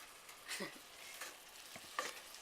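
Spinach side dish stirred in a hot frying pan, with a few quiet scraping stir strokes over a soft steady sizzle, close up and faint.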